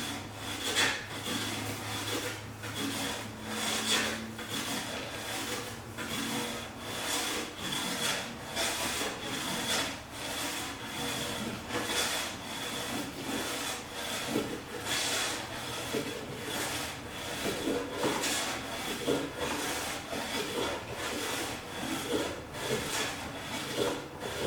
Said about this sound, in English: So I'm just going to keep on going until I get a nice shaving all the way across